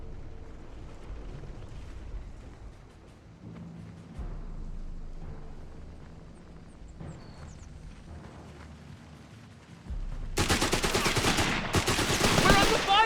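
Gunfire in the video game Company of Heroes 3: low battlefield rumble and faint distant shots give way to loud, rapid bursts of close gunfire near the end.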